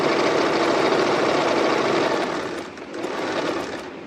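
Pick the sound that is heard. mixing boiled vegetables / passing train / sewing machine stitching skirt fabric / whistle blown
sewing machine stitching skirt fabric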